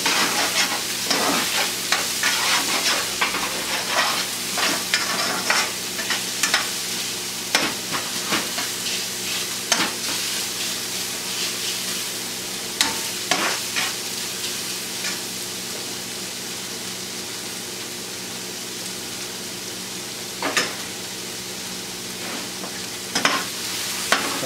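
Thick hybrid nopales cactus pads from Texas fry in a pan with a steady dense sizzle, broken by sharp crackles and pops and occasional stirring scrapes, close and loud with no voices.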